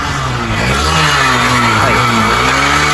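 Car engine revving hard under load on an uphill climb, after its valves were cleaned, a loud steady roar with rising pitch that fills the whole stretch with no voices.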